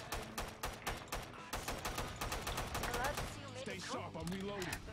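A SCAR rifle on automatic fire in Killing Floor 2 hammers out rapid, evenly spaced shots in a near, continuous stream, with game effects and a voice mixed in toward the end.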